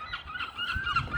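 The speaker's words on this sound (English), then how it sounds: "there's some noisy seagulls" Noisy seagulls calling in a park in Newport, harsh honking cries repeating close by over steady background noise, with no voices.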